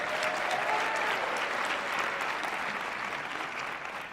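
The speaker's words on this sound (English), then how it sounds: "Give Ms. Moore another round of applause for that song." Applause from the audience at an Eastern Michigan University multicultural graduation celebration greets Ms. Moore after her song, a full, even roar of many hands clapping that holds steady throughout and thins a little at the close.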